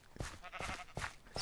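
Sheep in Minecraft bleat three or four times in a short rapid series, close and fairly clear, while being sheared.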